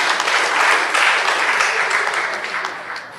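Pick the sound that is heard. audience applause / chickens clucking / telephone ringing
audience applause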